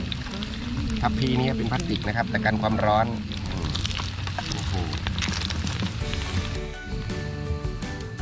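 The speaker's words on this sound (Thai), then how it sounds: "ไข่ก็ทอดเสร็จแล้วครับ" Steady crackling sizzle of an egg frying in hot oil in a pan, broad and continuous, with someone talking over it near the start.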